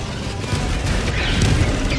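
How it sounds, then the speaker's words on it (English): A heavy orbital strike explosion in Helldivers 2 rumbles loud and close, a sustained booming roar that fills the whole two seconds with crashing low-end impact. "Calling in orbital strike!"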